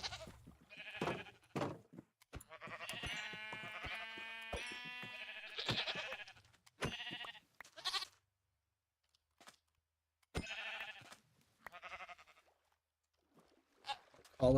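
Sheep and goats bleat in the Minecraft video game, short wavering calls that come in bursts and break off into long quiet gaps, heard close with some speech mixed in.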